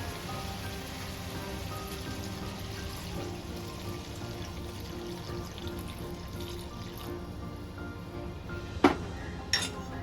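Coconut milk poured into a pan of softened onions, a steady close bubbling hiss like light rain, ending with a couple of sharp clinks of a utensil against the pan.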